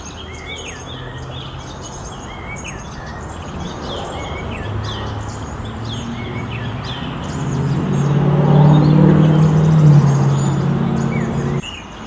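Small birds chirp and tweet in a garden where a red bird comes to drink water, the calls scattered and fairly faint over a steady background hum that swells into a louder low rumble near the end.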